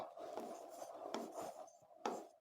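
Chalk or a marker scratches out writing on a board during a physics lesson, giving faint, close strokes in short uneven bursts with a sharper stroke near the end.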